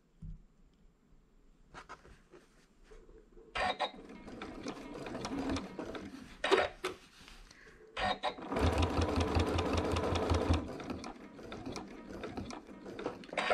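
A sewing machine stitches the sashing of a quilt held with basting tape, its presser foot supported by a button reed at the corners; close, steady mechanical whirring runs in several bursts of varying length with short pauses between.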